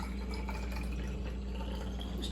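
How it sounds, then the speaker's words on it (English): Water poured from a container into a plastic soap bottle partly filled with unscented liquid soap, a steady close trickle and gurgle of filling liquid, continuous and fairly quiet throughout. "Just pour your water in, leave a little bit of room at the top."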